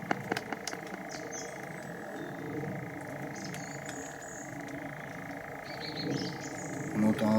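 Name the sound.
frog croaking outdoors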